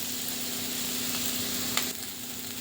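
Thinly sliced potato fry sizzling in oil over medium flame while being stirred in a pan: steady close frying hiss with a faint scrape of the spatula.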